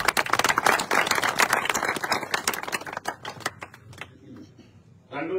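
Crowd clapping at an Indian National Lok Dal village rally in Haryana, a dense burst of claps that thins out toward the end, with a voice talking over it.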